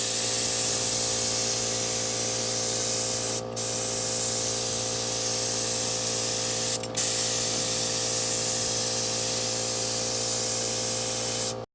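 Spray paint hisses onto the siding of a vintage Shasta camper trailer to paint an accent stripe, in three long, close, steady bursts separated by two brief pauses.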